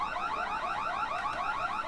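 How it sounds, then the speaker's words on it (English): A car-style alarm in Secret World Legends wails continuously, its rapid warbling sweeps loud and steady for the whole stretch, with no voices. "Just trigger the alarm."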